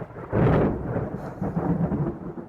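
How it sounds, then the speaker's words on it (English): A thunderstorm with a loud roll of thunder that swells quickly and rumbles on, with steady rain underneath and no talking. "It's still storming,"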